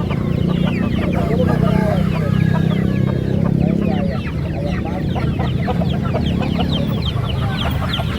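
Young Bangkok fighting chicks and chickens at a Sunday market in Makassar cluck and chirp continuously in a busy crowd of birds, with a steady low hum and murmuring voices underneath.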